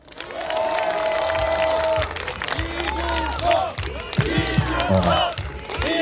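Crowd applause and cheering at a Dongtan election campaign rally for Lee Jun-seok, a dense wash of clapping with shouts rising over it for several seconds, loud and close.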